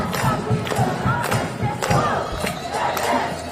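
Crowd at a protest encampment at Columbia University in New York City chanting in loud rhythmic bursts, with thumping beats and a dense, close wash of many voices throughout.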